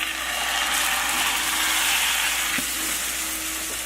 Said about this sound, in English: And then I put it back on the burner, and let it finish cooking